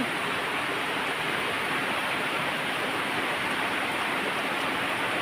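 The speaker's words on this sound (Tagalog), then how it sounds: "Kaya na, grabe ang lakas ng ulan." Heavy rain pours down in a steady, dense roar, continuous and even throughout with no voices on top.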